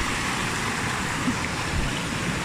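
Steady, close rush of cold river water running near Neda waterfall, a dense broadband wash that holds even throughout with no voices over it.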